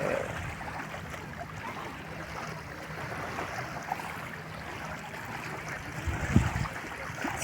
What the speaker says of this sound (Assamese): দেখিছোঁ কেনেকুৱা ঢৌ মাৰি আছে